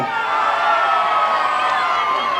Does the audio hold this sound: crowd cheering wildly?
yes